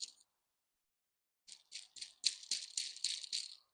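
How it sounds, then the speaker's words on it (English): Dried okra seeds rattling inside a brittle pod, a short shake, a pause, then a burst of quick dry rattles, faint and close with no talking. "You can hear those rattling inside as well."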